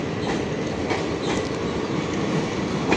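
Old train coaches roll past at Brahmapur railway station, a steady loud broadband rumble with faint periodic wheel clacks throughout.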